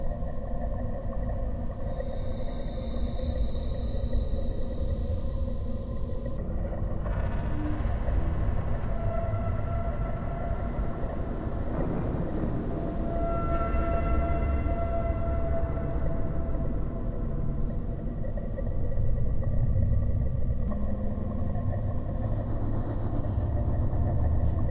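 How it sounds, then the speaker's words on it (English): An intense, deep rumble from the Mass Effect indoctrination scene, with faint high tones riding above it, holds steady and loud for the whole stretch with no talking. "Very intense infrasonic noise, and some ultrasonic noise, is brought to the ears of Shepard"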